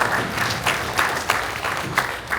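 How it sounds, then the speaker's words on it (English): Applause at a Federation of Indian Associations patriotic celebration in Chicago, a full, steady crowd clapping with scattered louder individual claps, sustained throughout without speech. "Please give them a big round of applause"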